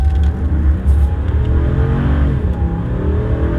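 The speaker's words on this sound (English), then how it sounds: "Let's see how this truck does with 0 to 60." A gas V8 RAM 2500 Power Wagon pickup truck accelerates hard from a standstill toward 60 mph, its engine roaring loud and steady from inside the cab, the pitch climbing gradually without pause.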